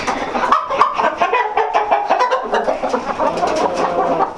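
A big rooster, white with a white tail, gives a close, loud run of rapid clucks and short calls lasting a few seconds, with no one talking.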